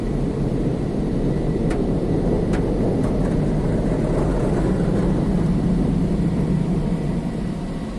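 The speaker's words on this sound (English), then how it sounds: "And now a high pressure vacuuming system." A powerful high-pressure air system in an automated car wash blasts around a car from inside the cabin, a loud, constant roaring rush with a low rumble and a few faint clicks.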